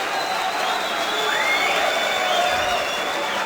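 A German darts crowd at a PDC Masters first-round match breaks into steady applause and cheering after a leg is won, a dense, loud roar of clapping and voices that holds evenly throughout.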